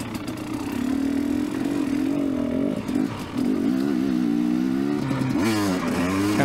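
A 2019 KTM 250xc dirt bike is ridden on a cold November day at an off-highway trail park, its engine droning steadily and close, with rising and falling revs and a brief dip before it picks up again.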